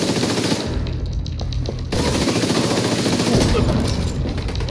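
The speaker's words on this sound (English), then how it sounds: "I'm getting shot from behind." Sustained automatic gunfire in the shooter game The Division 2, dense rattling bursts with a brief lull before the shooting resumes at full intensity, loud and close, with no talk over it.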